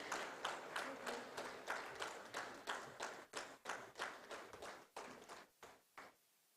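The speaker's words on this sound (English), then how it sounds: "I'm sure that we can clap for them." An audience clapping at a startup summit in a steady burst of applause, fairly faint and distant, tapering off near the end.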